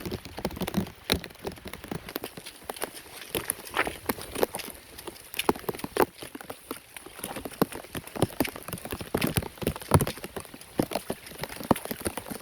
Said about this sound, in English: it's a very drizzly night